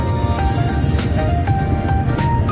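Noisy street traffic with motorized tricycles, a steady loud rumble of engines close by with passing vehicle tones and horn-like pitches rising and falling throughout.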